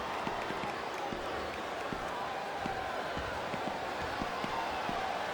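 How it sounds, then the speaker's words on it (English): A capacity wrestling crowd at a WWE Armageddon no-rules casket match roars steadily throughout, a dense, continuous wash of cheering with scattered claps and faint commentary voices beneath. "This capacity crowd is making their opinions known tonight."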